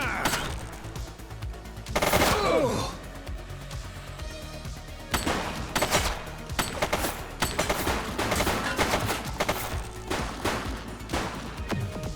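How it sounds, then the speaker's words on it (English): Gunfire rattles through a police video game, The Precinct, with bursts of rapid automatic shots and sharp single cracks repeating over a dozen seconds, close and loud against a background of game sound. "He's shooting!"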